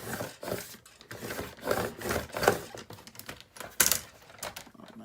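Digital craft cutting machine with a worn blade cutting through thick material, a faint scratchy, uneven rasping with small clicks and bursts as the carriage moves back and forth.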